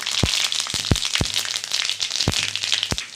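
Bay leaf, dried red chili and panch phoron spices crackling in hot oil, a steady sizzle broken by a handful of sharp, irregular pops close by.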